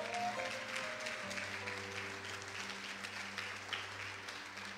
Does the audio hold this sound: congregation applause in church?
yes